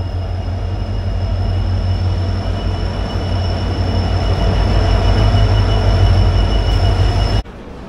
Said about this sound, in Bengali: 12378 ডাউন পদাতিক এক্সপ্রেস আমাদের ঢুকে গেল।